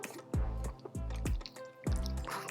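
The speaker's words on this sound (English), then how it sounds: "Do you see the soup dripping?" Soup dripping from a steamed pork and ginger soup dumpling, heard as a few close, distinct wet drips spaced apart with a faint liquid trickle between them.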